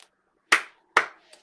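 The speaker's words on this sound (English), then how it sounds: "I applaud you." A person claps twice, sharp and close, with a faint third clap trailing after a short pause.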